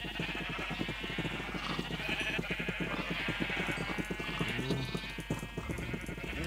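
Minecraft sheep in the video game bleat again and again in quick succession, loud and close, with a steady hum underneath.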